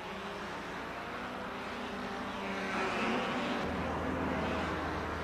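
1957 German Grand Prix racing cars at the Nürburgring Nordschleife streaming along the back straight behind the pits, a faint, muffled engine roar rising and swelling as the cars pass.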